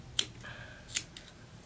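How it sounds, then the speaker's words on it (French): Scissors snipping excess marabou feather from a bass fly at a fly-tying bench, two crisp close snips about a second apart against a quiet background hum. "Je vais venir couper l'excédent de marabout."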